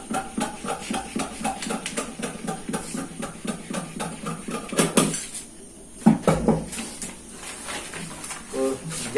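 Scissors snip through blouse fabric along a drawn line while a size 32 princess-cut boat-neck blouse is cut, giving a steady run of close, crisp cuts with light handling knocks.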